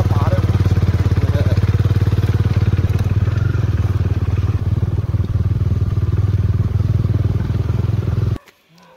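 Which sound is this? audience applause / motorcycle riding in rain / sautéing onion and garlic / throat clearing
motorcycle riding in rain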